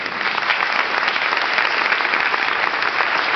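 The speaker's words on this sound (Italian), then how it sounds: "posso chiedervi un applauso per" An audience bursts into continuous, even applause, a dense wash of clapping that stays loud and steady from start to finish with no voices over it.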